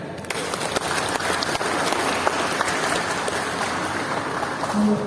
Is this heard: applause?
yes